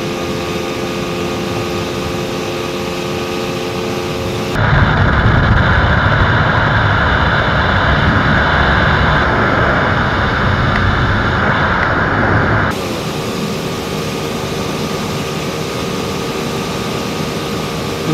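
A TVS Apache RTR 4V 160 motorcycle engine runs steadily with a low, continuous drone. It grows louder and rougher through the middle stretch before settling back to a steady idle, and no one speaks.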